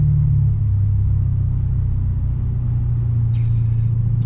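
Steady, loud low rumble from a Lexus RC F V8 engine idling or cruising close by. A brief brighter hiss rises near the end, with no talking.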